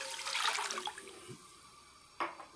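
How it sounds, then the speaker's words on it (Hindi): Water is poured into a kadai for cooking mutton, a short splashing pour at the start, fading, then a brief second splash near the end, fairly quiet. "अब मैं इसके अंदर ये पानी डाल रहा हूँ 1 kg"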